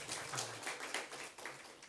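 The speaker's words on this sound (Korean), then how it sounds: "우리 성가대를 위해서 박수 한번 치겠습니다" A Korean church congregation claps for its choir at a Christmas thanksgiving service, a steady wash of many hands applauding together, moderately loud and without talk.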